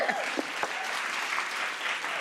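Brief crowd applause plays loud and steady, with a faint voice at the start that quickly fades under the clapping.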